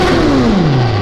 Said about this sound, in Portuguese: Chegou a espremer os ouvidos do Danilo ali, o corte